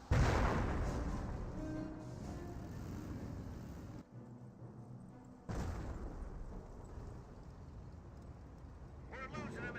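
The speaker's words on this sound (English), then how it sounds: "but getting mortared by the mortar half-track" In the video game Company of Heroes, a mortar half-track lobs shells, giving heavy booming impacts at the start and again midway, under continuous battle noise and a commentator's voice.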